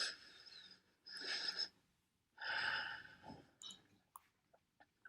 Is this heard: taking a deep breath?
yes